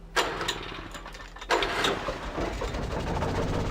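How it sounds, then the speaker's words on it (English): An old generator engine in a cellar, from the Alan Wake video game, cranking and catching with two sharp starting bursts and then settling into a steady, rough mechanical running hum, close and fairly loud. "I've started the engine to get ourselves some frickin' light in our house"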